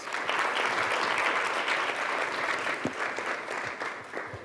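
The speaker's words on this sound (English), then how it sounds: "Please, round of applause." Sustained applause from a crowd at a sustainability event fills the room, steady and dense, tapering slightly toward the end.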